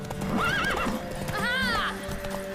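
Horse in The Witcher 3 game, hooves clopping as it gallops and two loud, wavering neighs close by, with a voice urging it on.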